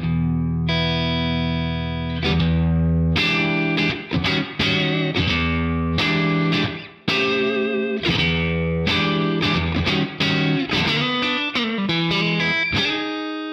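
An Ibanez AZ Essentials electric guitar on the neck pickup plays a distorted passage of sustained chords and quick picked notes, warm and full, with a brief pause midway.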